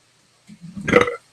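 One drawn-out burp, close and loud, building to a guttural peak before it cuts off into silence.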